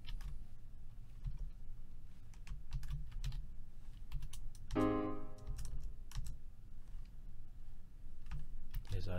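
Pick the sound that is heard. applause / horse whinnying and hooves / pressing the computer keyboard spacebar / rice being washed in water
pressing the computer keyboard spacebar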